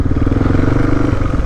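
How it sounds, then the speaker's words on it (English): A cold motorcycle engine idling roughly, a loud close throbbing sputter with uneven pulses that falters and dips near the end as it threatens to cut out. "Bike's not warm, it's cutting out."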